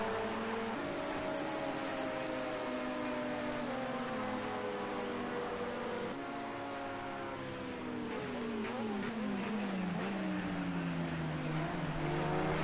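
Two endurance race cars in World Endurance Championship pre-season running side by side, engines loud and close as they accelerate, with rising and falling pitch sweeps as they pull away together.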